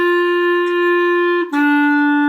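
Clarinet playing a short lesson exercise that opens on a pickup note, steady sustained tones with one brief break between phrases, close and solo without speech.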